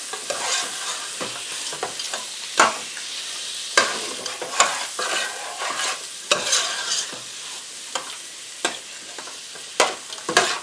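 Frozen vegetables being stirred into browning beef in a pan for shepherd's pie, with repeated sharp scraping and clattering strokes over a steady sizzle, close and fairly loud, no talking.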